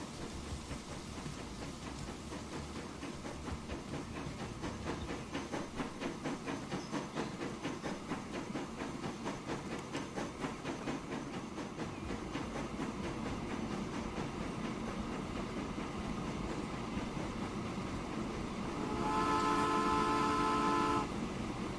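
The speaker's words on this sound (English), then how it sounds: "Now we're talking a proper train." A freight oil train in the game Transport Fever 2 rumbles along with a steady rhythmic clatter of wheels, ending in a short horn blast near the end.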